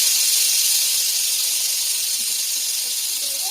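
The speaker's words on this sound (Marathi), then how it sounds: "त्याच्यामध्ये थोडस गरम तेल टाकायचं आपल्याला." Hot oil hisses and sizzles steadily as it hits a spiced flour mixture with salt, asafoetida and garam masala, a close, continuous frying hiss that fades slightly toward the end, with no talking.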